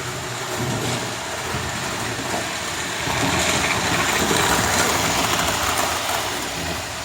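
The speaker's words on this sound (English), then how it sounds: "Enough power to make locomotive travel at a fair old rapid rate." Model locomotive Spencer racing along the track on an AGW DC controller, a steady close whirring rush with rattling wheels that swells slightly louder midway, with no talking.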